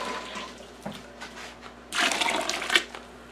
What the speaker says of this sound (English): let's mix a little hot water in there and boost that temperature up just a little bit